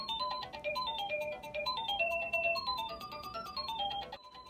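A toddler's singing book plays an electronic, beeping Jingle Bells melody, a steady tinny tune that runs for several seconds close by and then ends.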